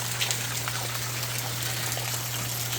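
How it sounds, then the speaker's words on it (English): Rainwater from a gutter running through a small drainage channel during a Southern California storm, a steady faint hiss of flowing water and rain with a constant low hum beneath, no voices. "the water drains through this water river"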